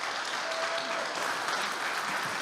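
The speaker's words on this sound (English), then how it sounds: "Please give her a round of applause." An audience at a church service claps in a dense, steady wash of applause at moderate distance, with no voices heard over it.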